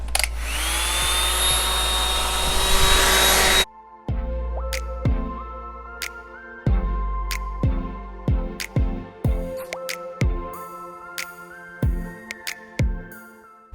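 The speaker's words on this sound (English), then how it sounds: "I'm gonna take my blow dryer, I'm gonna put it on high, and I'm gonna blow this hair out straight." A blow dryer set on high blows out a synthetic bob wig, giving a loud, steady close-up roar with a faint whine for about three and a half seconds. It then cuts abruptly to plucked, rhythmic music.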